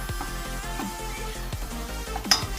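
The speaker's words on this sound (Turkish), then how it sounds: "soğanımızı hafif şöyle yağımızda gezdirip" Onions sauté gently in oil in a pot for Ezogelin soup, a soft continuous sizzle with occasional utensil clinks and a brighter metallic tap near the end, heard close up.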